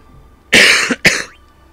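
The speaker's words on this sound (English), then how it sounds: "Sorry, I'm coughing." Two harsh coughs in quick succession, close and loud, the second shorter than the first, with faint background hiss.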